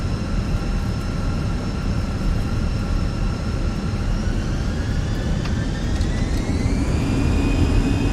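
Simulated airliner jet engines spooling up at takeoff power in Microsoft Flight Simulator, a steady loud broadband roar with rising whine tones building over several seconds, no voices.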